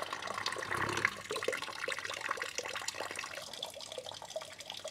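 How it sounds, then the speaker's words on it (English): Coolant trickles and splashes out of a Toyota Land Cruiser 200 Series water pump, a faint, continuous liquid pour with small drips, heard alone at close range. "just loosen that bolt off until coolant starts draining out"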